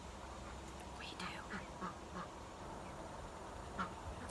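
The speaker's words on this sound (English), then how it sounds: "While we wait, you want to see my ducks?" Ducks quack faintly and intermittently in a backyard. The calls are scattered over a steady noisy background with some distant voices.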